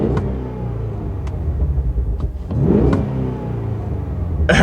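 A 2023 Cadillac Escalade-V revs in V mode with a loud, continuous deep engine rumble. Several sharp pops and crackles break through it, with no talking.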